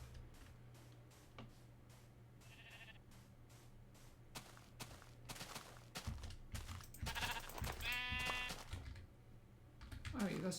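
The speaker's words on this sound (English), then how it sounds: "There are many sheep all over the place." Sheep bleat in Minecraft, short nasal bleats popping up twice amid regular ticking game clicks, with a person talking over parts of it.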